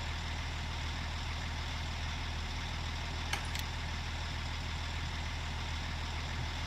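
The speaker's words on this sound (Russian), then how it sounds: "Ну, к нам трактор едет." A tractor in Farming Simulator 19 draws near, its engine a faint, steady low rumble that holds evenly throughout with one brief click in the middle.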